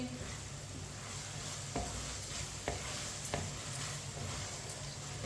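Mixed vegetables with ketchup cook in a pan for sabzi seviyan, giving a low, steady sizzle with a few faint scrapes of stirring spaced through it. The sound is quiet and no one speaks.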